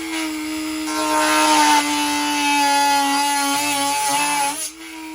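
A power drill whines steadily at high speed as it cuts a hole through a kayak hull for a flush-mount rod holder, loud and close for about five seconds before spinning down.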